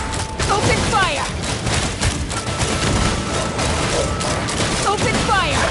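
Sustained video game gunfire, a dense fusillade of shots and thuds running throughout, loud and steady under game speech and voices.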